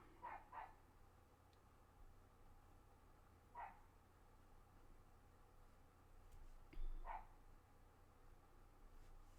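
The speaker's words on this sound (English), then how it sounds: "Apologies if you can hear the dog next door." A neighbouring dog barks a few times at a distance, a quick double bark followed by two single barks spaced several seconds apart over steady background hum.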